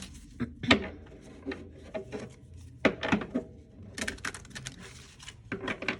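Cards are shuffled by hand in irregular bursts of soft slaps and riffles, close and fairly quiet, with brief pauses between handfuls.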